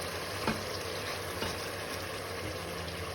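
Chicken pieces for homemade shawarma fry in a pan, giving a steady close sizzle with faint stirring clicks and no talking.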